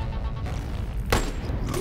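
Gunfire in the VR shooter Boneworks, a sharp loud shot cracking out over a busy, noisy game soundscape, with a second fainter burst near the end.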